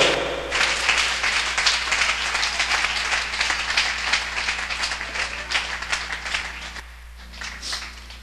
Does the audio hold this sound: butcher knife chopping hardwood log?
no